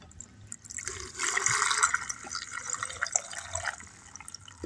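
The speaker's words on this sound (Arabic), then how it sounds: "نغطي كل محتويات البطرمان بمحلول التخليل" Pickling brine poured into a jar of cucumbers, a steady splashing liquid pour that swells in the middle and then trickles, close and moderately loud.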